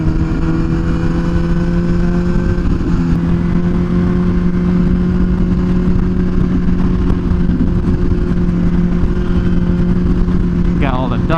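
An MV Agusta SV 1000 Oro motorcycle rides at a slow pace, its engine giving a steady, loud drone with a constant pitch and wind noise throughout.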